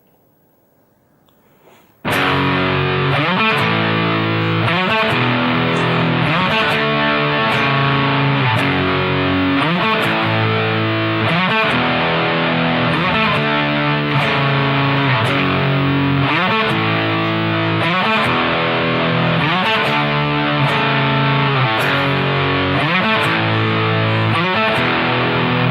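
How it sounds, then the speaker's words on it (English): Electric guitar through heavy distortion plays a pre-chorus, chugging rhythmic power-chord riffs in a steady loud pattern after a quiet start. "the pre-chorus section, which I'm now going to play through, which is going to need a heavy distortion tone again"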